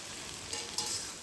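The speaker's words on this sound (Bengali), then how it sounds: "কড়াইতে প্রথমে সামান্য তেল দিয়ে ভেন্ডিগুলো ভালো করে নেড়েচেড়ে ভেজে নিচ্ছি" Okra stir-frying in a little oil in a wok, a soft, fairly quiet sizzle with a couple of brief brighter bursts of hiss as the pieces are tossed.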